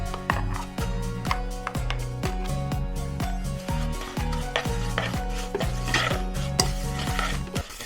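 Roasted vermicelli being mixed with pistachio paste in a pan: a rhythmic run of close, repeated scraping and knocking strokes, steady and moderately loud, over faint background music.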